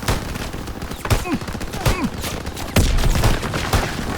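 Rapid bursts of rifle and machine-gun fire crack out in the World War II shooter game Call of Duty: WWII, loud and close, with repeated volleys and shouted voices in the fight.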